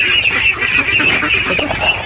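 A flock of geese on a duck farm honks continuously, with many overlapping nasal calls packed close together and fairly loud.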